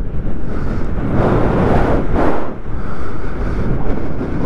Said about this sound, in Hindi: हवा चल रही है बहुत ज़्यादा